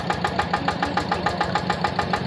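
Yanmar TF85 tractor diesel engine running steadily, a loud, close, rapid rhythmic chugging knock repeating evenly without pause and with no voices.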